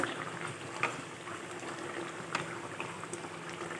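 Bengali tengra fish curry simmers under a lid on low heat, a soft continuous bubbling with occasional small pops, faint and steady.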